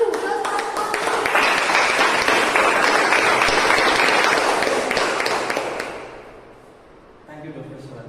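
Applause from a Toastmasters club meeting audience welcoming the evaluator, a steady loud wash of clapping lasting several seconds before fading, after which a voice begins speaking.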